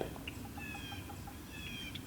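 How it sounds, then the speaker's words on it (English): A wild turkey hen clucks softly in the woods on a frosty morning, a few faint, spaced clucks and peeps over quiet background hiss. "There's a hen."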